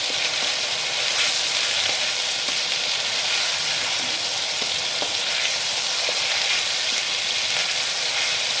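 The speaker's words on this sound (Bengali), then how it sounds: "এবারে কাঁচা লঙ্কা কিছু দিচ্ছি" Green chillies sizzling in hot oil for a Bengali-style prawn curry make a loud, continuous, even hiss close by, with no voices over it.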